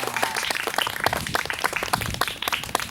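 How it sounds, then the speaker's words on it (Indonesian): Children clap their hands together at a storytelling session, a dense, lively patter of many small hands lasting a few seconds with little talk. "Coba tepuk tangan anak ya."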